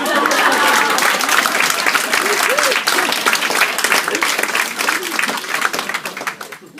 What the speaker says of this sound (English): I want everyone to just give him a clap.